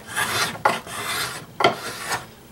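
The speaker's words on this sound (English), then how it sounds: "So I've got this thing set to where it will just take some nice, short, little, thin shavings." A small Japanese finger plane (kanna) shaves thin curls from figured cherry wood in short, crisp rasping strokes, about three passes, close up with no voices.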